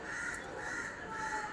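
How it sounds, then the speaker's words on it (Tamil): A crow caws outdoors in a few drawn-out, harsh calls at moderate distance, steady and unbroken against a faint background hiss. "இப்போ தான் அந்த காக்கா வந்து கத்துது."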